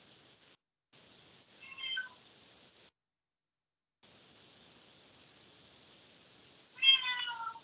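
A cat meows twice indoors, a short call followed several seconds later by a longer, louder one, over a faint steady electronic hiss with brief gaps of silence.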